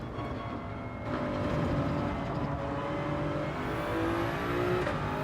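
Race cars roar down a straight in Gran Turismo 7, a Toyota Supra among them, with sustained loud engine drone and rising revs as a car accelerates, steady and continuous without pauses.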